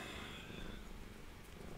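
A cat purrs softly and steadily for a moment, a faint, continuous low rumble close by with no talking.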